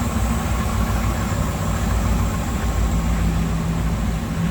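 A 1985 Chevrolet Camaro Z28 V8 engine idles with a deep, steady rumble and a slightly uneven low throb, close and continuous with no talking.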